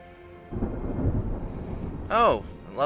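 Thunder rumbling during a storm in the naval strategy game Ultimate Admiral Dreadnoughts, a deep rolling roar swelling and fading, with sharper crackling bursts near the end.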